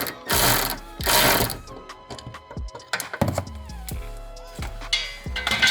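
Ratchet clicks come in bursts with metallic clunks and thunks as a drive shaft center support bearing is unbolted on a BMW E92 M3 track car, close and fairly loud, with no talking.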